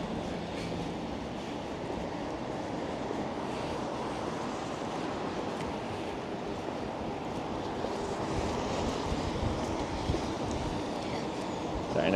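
Harsh headwind buffets a camera microphone while walking outdoors on a hitchhiking trip from Tromsø toward Rotterdam, a continuous loud roaring rumble that fills the whole stretch without letup.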